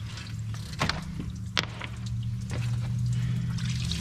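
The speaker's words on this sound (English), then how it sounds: "make sure you got that drain pan down there catching all your coolant" Coolant from a 2000-2006 Chevy Tahoe pouring into a drain pan during a water pump replacement, a steady low trickle and splash with a few metallic knocks and clicks nearby.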